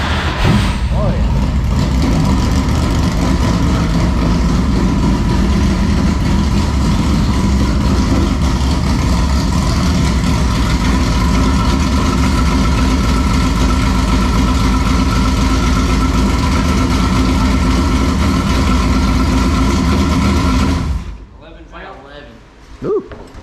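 A late model race car engine runs steadily and loudly at a constant idle for about twenty seconds, close by, then cuts off abruptly, leaving faint voices and small noises.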